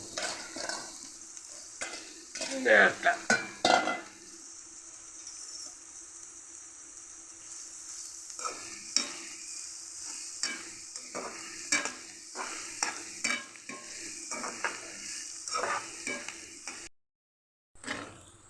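Finely sliced onions frying in a pan, stirred with a ladle: a steady sizzle broken by bursts of scraping and clattering strokes, close by, fading briefly near the end, no talk.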